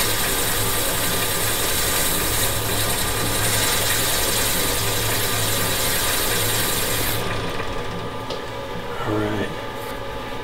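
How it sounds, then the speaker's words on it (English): A wood lathe spins a pendant during woodturning, a steady close motor hum with faint rubbing that holds for most of the span before easing down toward the end as the speed drops. "Turn the lathe speed back down"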